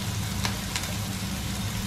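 Chopped onion frying in coconut oil in a pan, a steady close sizzle and crackle with a couple of faint stirring scrapes, no talking.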